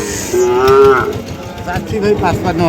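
Sahiwal calves at Ambari cattle market bawl in two loud, close moos, a longer call followed by a shorter one, with market murmur underneath and almost no speech.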